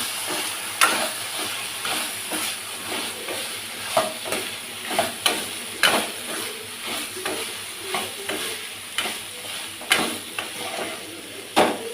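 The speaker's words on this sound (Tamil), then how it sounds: "கருவேப்பிலை போட்டு நல்லா வணக்கிடலாம்." Curry leaves and mint leaves sautéing in a pan for Palipalayam chicken, a steady close sizzle and hiss broken by repeated scraping stir strokes at an uneven rhythm, with no talking.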